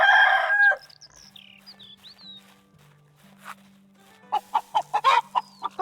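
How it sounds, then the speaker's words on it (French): A rooster in the medieval farming game Medieval Dynasty crows loudly at first, then gives chirps and clucks over a quiet steady hum, ending in a burst of rhythmic close footsteps or clucks. "Il est pas vilain, notre coq."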